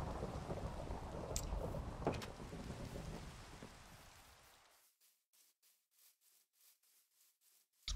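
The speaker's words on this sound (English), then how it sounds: "if it's a thunderstorm, I can sleep and get rid of the rain" A video game thunderstorm rumbles with heavy rain for several seconds, thunder cracks breaking through, before the sound drops away to faint, evenly pulsing patter.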